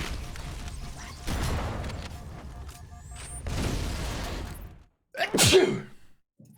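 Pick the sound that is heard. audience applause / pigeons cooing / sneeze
sneeze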